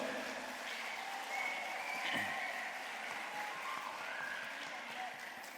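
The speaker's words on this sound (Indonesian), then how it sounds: "Kalau bangga, tepuk tangan untuk SDIT Ulul Albab." An audience at a primary school graduation and Quran recitation ceremony applauds, a faint, steady wash of many hands clapping that continues throughout at a distance, with some murmuring mixed in.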